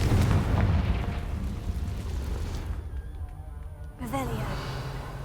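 A Confringo fire spell in Hogwarts Legacy sets off a rumbling blast, heavy low booms that roll on for several seconds, with a voice speaking briefly over the tail.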